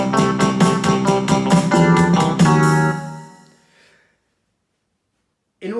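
A Technics SX-KN500 keyboard plays back a recorded sequence containing a deliberate mistake, rhythmic note hits for about three seconds that decay into silence before a short new sound starts at the very end.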